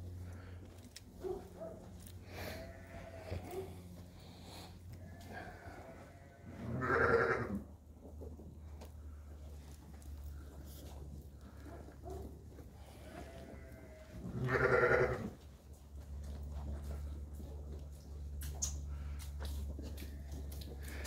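Newborn lambs at a sheep farm give two clear, loud bleats about eight seconds apart over a low steady hum, with quieter faint bleats scattered between them.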